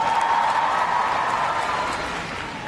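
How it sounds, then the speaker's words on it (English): A large indoor crowd at Crufts cheers and applauds for an RAF display team dog, a broad steady roar of clapping and voices that stays loud throughout and eases slightly toward the end. "another big cheer for Phantom!"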